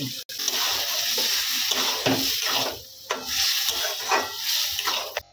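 Boiled dal and water poured into a hot cooking pan with spiced egg masala, giving steady sizzling and frying with scraping stirs and a sharp knock near the start.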